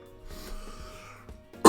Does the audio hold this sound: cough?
yes